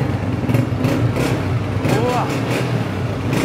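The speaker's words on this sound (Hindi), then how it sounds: "साउंड सुने, इंजन चेक करो" A used 2013-model Honda 125 motorcycle engine runs steadily at idle with a low, even throb, fairly close and continuous, while someone talks over it.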